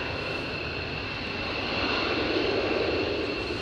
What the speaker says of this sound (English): Another hot pit manoeuvre here